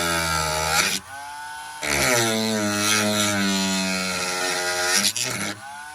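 A whining power tool cuts a Mustang license plate surround in close bursts: a high buzzing run, a pause, a longer steady cut, then a brief stutter and another short burst.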